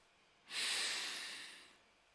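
A person breathes out slowly through the mouth during a gentle relaxation exercise, one soft, close, airy exhale lasting over a second, alone in a quiet room.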